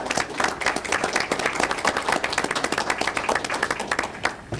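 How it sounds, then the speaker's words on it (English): An audience at a World War II veterans evening claps for several seconds, a dense burst of close hand claps that holds steady before thinning at the end. "So I'd really like a round of applause and a thanks to Gerry O'Reilly."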